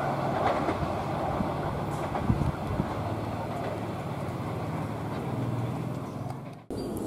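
A train rumbles past on a railway curve, a continuous loud roar with wheel clatter lasting several seconds and nearing its end, with people faintly audible in the background.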